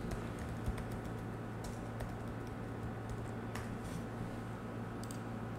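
Steady typing on a computer keyboard, a continuous run of quiet, close key clicks over a constant low hum, with no talking.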